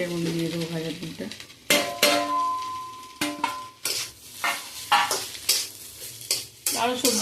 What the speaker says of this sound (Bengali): শুধু পেঁয়াজ, ডিম আর ক্যাপসিকাম দিয়ে নিলাম।